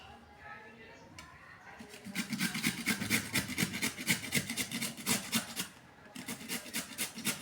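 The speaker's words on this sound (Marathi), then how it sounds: "सर्वात आधी आपण बटाटा खिसून घेऊया" A potato being grated by hand for a face pack, steady rhythmic rasping strokes, fairly quiet and close, pausing briefly before resuming.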